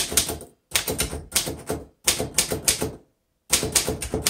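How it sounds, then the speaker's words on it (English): Rapid bursts of keystrokes on a 1935 Royal Model O manual typewriter, clattering in quick runs separated by short pauses, close and clear with no voices. "Is a lovely typewriter."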